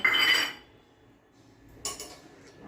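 Freshly washed metal and ceramic dishes clink sharply as they are put away in a home kitchen, in two short bursts separated by a quiet pause.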